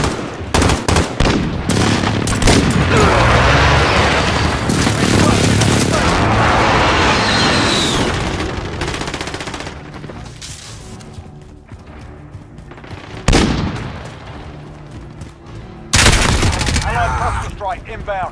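Call of Duty Modern Warfare online gameplay erupts with rapid gunfire and heavy precision airstrike explosions; loud rolling blasts fade to scattered shots, then two sudden booms strike near the end, with faint game voices mixed in.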